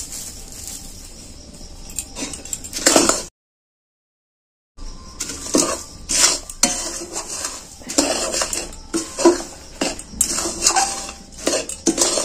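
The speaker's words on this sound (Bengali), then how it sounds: "আমি যে এই যে মুড়িকে গুঁড়ো করে রেখেছিলাম, এগুলো আস্তে আস্তে দেবো আর নাড়তে থাকবো।" Powdered puffed rice being stirred into hot boiling jaggery in a pan, a spoon clattering and scraping against the metal in busy irregular bursts, with a brief silent gap early on and no voices.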